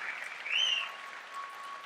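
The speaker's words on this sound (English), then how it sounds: "Can we get another round of applause over here for Gary for making this a priority?" Faint, distant applause from a conference audience for Gary Vaynerchuk at Haste and Hustle, swelling briefly midway and then settling into a thin, steady patter.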